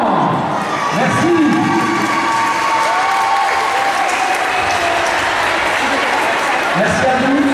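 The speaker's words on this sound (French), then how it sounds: "Il mérite vos applaudissements." Audience at an ice skating podium ceremony in an indoor rink applauding and cheering, a loud, sustained wash of clapping with children's shouts and excited crowd voices over it.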